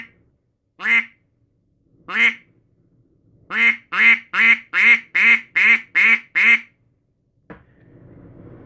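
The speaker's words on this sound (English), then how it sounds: "this is what my quack sounds like when I say that into the call with my controlled air" A duck call is blown in loud, nasal quacks close by: two single quacks spaced apart, then a quick run of seven in an even rhythm, followed by a brief rustle.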